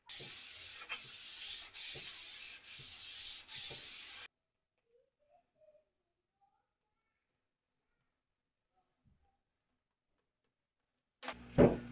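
Rhythmic rubbing strokes of sanding wood on a 1940s desk for a few seconds, close and steady, then near silence with faint small noises afterward.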